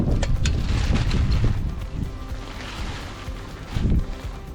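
Gusty wind buffets the microphone at a campsite beside a tent and an outdoor shower setup, with loud, uneven low rumbling surges that rise and fall in bursts.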